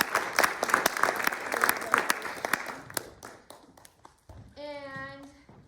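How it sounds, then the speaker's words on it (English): Audience applause at a recital for a young performer named Hope: lively, dense clapping from a small crowd that thins into scattered claps, then a voice briefly speaks at the end. "And so, round of applause."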